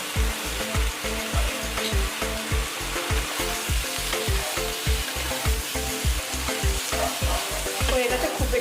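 Broccoli and carrot stir-frying in a pan for chicken salad, with a steady sizzle broken by quick, rhythmic scraping strokes of a spatula, close and continuous throughout.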